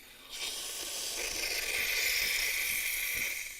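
A loud, steady jet of steam hissing from a Gaggia Carezza espresso machine wand being purged with the milk tube off, starting abruptly and holding for a few seconds before easing off.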